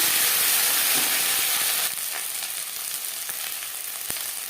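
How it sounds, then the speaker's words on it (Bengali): Panch phoron, bay leaf and ginger paste frying in oil over a low flame, a loud dense sizzle that softens partway through, with a few clicks of stirring and no talk. "পঁচিশ তিরিশ সেকেন্ড পাঁচফোড়ন তেজপাতা ভেজে নেওয়ার পর দিয়ে দিলাম আদা বাটা"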